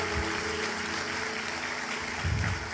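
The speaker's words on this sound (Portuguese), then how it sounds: "Dê o melhor aplauso que você pode dar ao Senhor." A church congregation at a Sunday morning service applauds, a dense, steady wash of clapping from many hands that fills the room throughout without a break.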